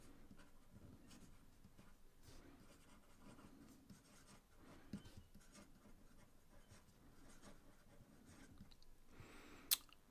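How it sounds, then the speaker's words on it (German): A Parker Parco fountain pen with a 14-karat gold nib scratches steadily across paper, soft close-up strokes in a continuous rhythm with brief pauses, alone without talk. "Auch das Schreibgeräusch der 14 Karat Goldfeder, hervorragend."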